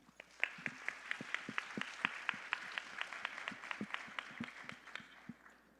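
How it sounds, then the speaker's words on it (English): Audience applause at a Bharatanatyam dance performance, a fairly small crowd clapping in sparse, uneven claps that stay soft and somewhat distant for several seconds. "Let's give Shri Kumar Das a warm round of applause."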